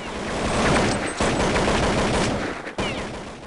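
Rapid gunfire in Counter-Strike 1.6, a dense, loud burst of automatic shots that runs almost nonstop, with one brief break near the end before it starts again.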